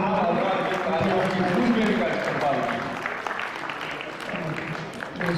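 Audience applause at a Marsiya Tahtul lafz recitation gathering, a dense wash of clapping spread across the room, steady throughout with a voice speaking over it.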